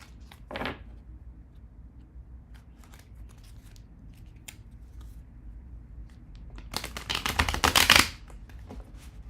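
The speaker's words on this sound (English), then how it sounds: "everyone has their own way of shuffling, but let's pull these 3 cards" Tarot cards are handled with scattered soft clicks and flicks, building to a loud riffle shuffle near the end, close up and without speech.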